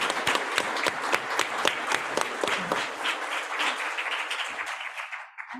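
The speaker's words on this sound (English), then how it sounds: "So let's give them a round of applause." Applause from an audience at a weekly community meeting, with distinct rhythmic claps of a modest group for about three seconds, then thinning into a softer patter that fades out near the end.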